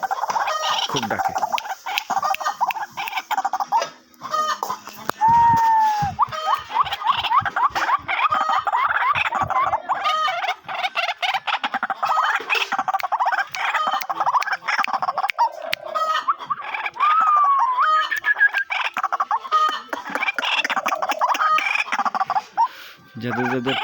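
White-breasted waterhen chicks call repeatedly and loudly at close range, a busy run of clucking, squawking cries that fills the whole stretch with only brief gaps.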